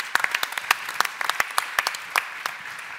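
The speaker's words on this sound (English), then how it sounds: "So let's have a round of applause for them" An audience at a deep tech event claps for visiting scientists: sparse, distinct individual claps in an irregular rhythm, close and fairly quiet, with no voices over them.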